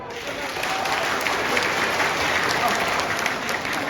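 An audience at a Lulu mall road show with games and prizes claps in a sustained, lively burst, crowd noise and scattered voices mixed into the steady applause.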